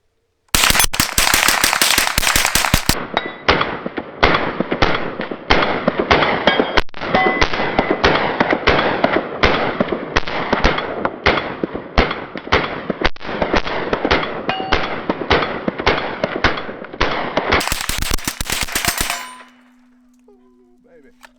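An unsuppressed Smith & Wesson M&P15-22 rifle fitted with a BMF Activator fires a long rapid string of sharp, loud shots outdoors, with metallic target clangs mixed in, before the firing stops abruptly and the air goes quiet.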